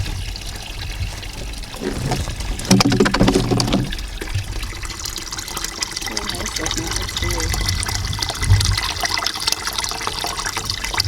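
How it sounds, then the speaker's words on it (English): Fresh water pours into a big bucket beside an icy roadside, a continuous splashing fill that grows louder and busier for a moment before settling into a steady stream. "filling a big bucket"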